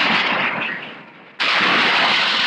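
Naval gunfire from a destroyer's 4.5-inch guns, heard as a loud continuous roar of blasts and rumble that dips briefly, then surges again with a sharp onset, with no talking.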